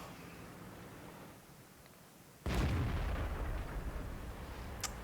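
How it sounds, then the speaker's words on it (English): A tank cannon fires in the World of Tanks game, a single loud booming blast at mid-clip that rolls into a sustained rumble, with a sharp crack near the end. "Pulled the trigger a little too late on that one."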